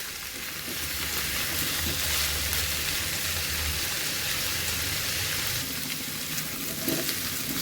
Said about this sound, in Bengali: এঁচোড় আর আলুটা আমার ভাজা হয়ে গেছে